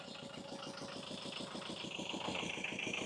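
A three-cylinder Iseki diesel engine on a used imported mini tractor idles steadily nearby, a rapid even chugging throb with a faint mechanical whine above it and no talk.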